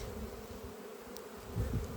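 Honeybees swarm over a brood frame at an apiary, a close, continuous buzzing hum from many bees with a few louder passes near the end, no voices.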